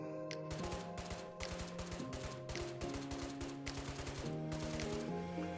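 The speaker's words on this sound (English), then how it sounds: "AKM. Shoots pretty nice, honestly." AKM rifle gunfire in a video game, rapid sustained automatic bursts of sharp shots, loud and close, over a background music tone.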